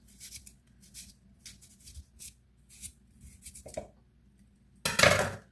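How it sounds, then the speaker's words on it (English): Knife cutting onions on a board for a gizzard onion stew, soft intermittent chopping taps and light clinks of kitchenware, close and fairly quiet, ending in a louder clatter. "Let's cut some onions inside."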